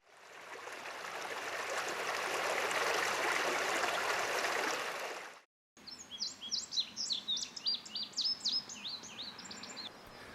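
Birds chirp along the Blue Ridge Parkway in Doughton Park, a string of bright, quick tweets over a soft background wash, preceded by a few seconds of steady rushing noise like flowing water.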